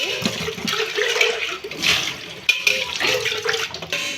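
A greasy pot is rinsed under running water, with a steady splashing, gushing flow that rises and falls throughout, with brief clatters of the pot partway through.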